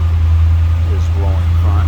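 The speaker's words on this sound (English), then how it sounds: "that blower fan, as you can hear," The air conditioning blower fan in a 1966 Chevrolet Impala SS runs as a steady, loud, low hum, with a faint voice briefly audible over it.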